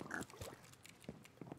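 Faint, short grunting oinks of cartoon pigs in a pig fishing party video game, several quick snorts scattered across a brief, quiet moment.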